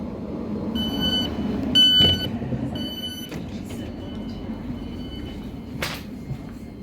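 A train pulls into a station: indoor rail rumble with a repeated series of short electronic beeps early on, then quieter rolling noise and a brief burst of hiss near the end.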